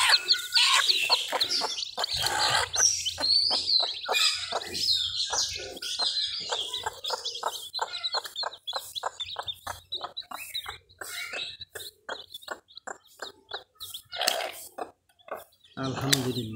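Hen clucking near a brood of ten newly hatched chicks, rapid repeated clucks mixed with high chick peeps, fairly close, while people talk at times.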